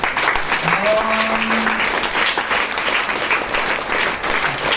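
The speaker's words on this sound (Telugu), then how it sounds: "సన్నాయి లేదు కాబట్టి చప్పట్లతో ఆనందింపజేయాలి" Applause from a gathering at a Hindu temple ritual, Shiva–Parvati wedding ceremony during Ekadashi Maharudrabhishekam, offered in place of shehnai music; steady crowd clapping throughout, with chanting voices and a brief tonal sound over it.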